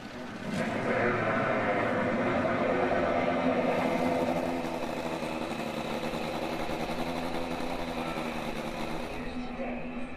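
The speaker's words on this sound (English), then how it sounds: "Drivers, start your engines!" A field of about twenty race cars at Laguna Seca Raceway's Speed Fest rumbles loudly and steadily as engines fire and settle into a dense, continuous idle that drops slightly in intensity partway through.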